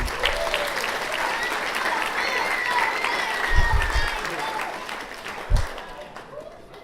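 Guests applaud Flavia during wedding speeches, with a steady wash of clapping and crowd noise that swells briefly with a couple of louder bursts before fading out.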